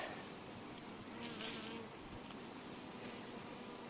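A constant swarm-like hum of honey bees at a crowded hive kept for chestnut honey, close and unbroken, with a few brief louder passes.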